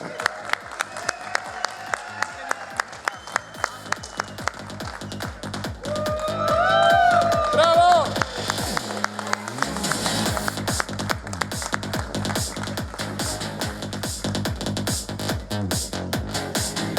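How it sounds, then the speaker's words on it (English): An audience at a Paragliding World Cup award ceremony applauds a winner, with sustained crowd clapping for many seconds, loud and close, and bright tonal sounds rising above it partway through. "Big applause for Joanna."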